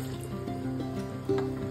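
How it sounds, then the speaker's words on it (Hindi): Water pours steadily into a pot of mutton curry, a continuous gurgling fill with a few brief splashes, close by. "हम इसमें पानी मिलाएंगे"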